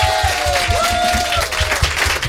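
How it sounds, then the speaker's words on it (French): An audience breaks into applause for a future groom at a radio show, a steady wash of clapping from a crowd, fairly loud and sustained across the whole moment. "vous pouvez l'applaudir, il va se marier"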